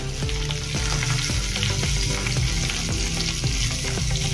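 Green chili, curry leaves and asafoetida frying in hot oil in a pan make a loud, continuous close sizzle and crackle, with fast rhythmic stirring taps running through it.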